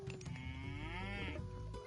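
A single cow lows in the real-time strategy game Age of Mythology, a drawn-out, clearly voiced moo close up over a quiet ambient bed.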